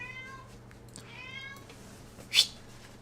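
A pet cat meows several times in a row, fairly close, with drawn-out rising and falling calls over a quiet room, ending in a short, sharper burst.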